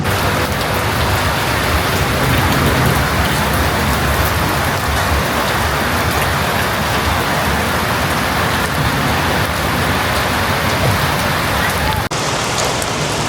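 Heavy rain pours steadily near a volleyball court in Margosatubig, Zamboanga del Sur, as a dense, loud hiss of drops on surfaces that lasts throughout, with faint distant rumbles mixed in.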